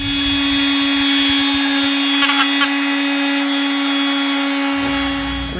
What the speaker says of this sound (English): We sanded and we cut a little bit more out.